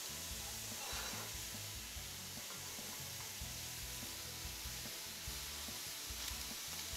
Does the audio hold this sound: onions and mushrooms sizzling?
yes